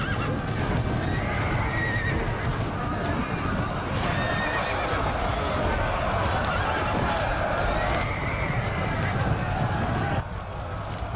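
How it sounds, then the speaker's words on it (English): Horses neighing and whinnying amid galloping hooves in a cavalry battle scene, a dense continuous wall of loud neighs, clip-clop and crowd-like commotion throughout. "Labienus and his cavalry were now engaged by both spearmen and Caesar's cavalry"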